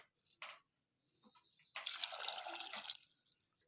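Water poured into a cooking pot of washed figs, a soft splashing pour after a few faint drips, fairly quiet and close.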